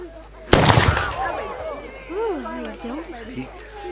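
A large outdoor fireworks display at a clan gathering: one sharp loud burst launches and crackles into decaying bangs and fizzing, while several people talk nearby.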